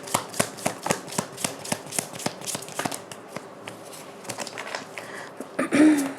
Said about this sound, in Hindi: One last shuffle and we are good to go.